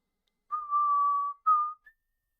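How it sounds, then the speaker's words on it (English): A person whistles two clear, steady tones, a long sustained note followed by a shorter one and a brief high chirp, alone against silence. "Can you guys hear me whistle?"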